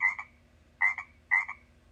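A frog croaks three times in short, close, loud bursts with brief pauses between them, alone against a quiet background.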